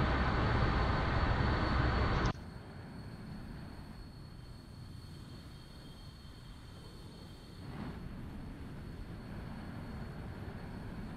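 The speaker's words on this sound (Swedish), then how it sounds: "Vi förbereder det här planet för start." F-14 Tomcat jet engines run before takeoff in the DCS flight simulator: a loud broadband roar with a steady high whine, dropping abruptly to a quieter, even rumble that swells slightly toward the end.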